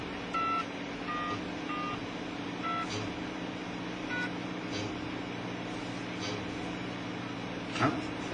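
A phone dials with short electronic keypad beeps spaced unevenly across the first half, over a steady low hum and background noise. The tones are faint.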